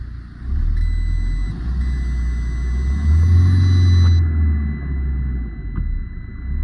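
A Fiat car's engine cranks and settles into a steady, close idle rumble, with warning beeps chiming over it at first, no voices.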